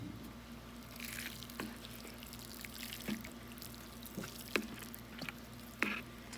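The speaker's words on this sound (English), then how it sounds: "Now let's go ahead and water the onion in." Water poured over freshly planted pelleted onion seeds in a garden bed, a soft steady trickle with scattered small splashes and drips, faint and continuous with a low background hum.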